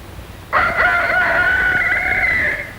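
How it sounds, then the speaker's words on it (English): A white leghorn rooster crows once, loud and close, a long sustained call that starts abruptly and holds steady for a couple of seconds before tapering off. "Very early in the morning, the rooster sends out his call"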